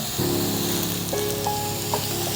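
Vada frying in hot oil over a low flame, a steady close sizzle with fine crackling bubbles running throughout, no voices.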